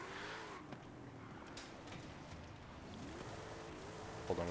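A Nissan Tsuru in the racing game Forza Horizon 5 drives with a faint, continuous engine drone that rises and falls slightly, with a brief tire-like squeal near the end.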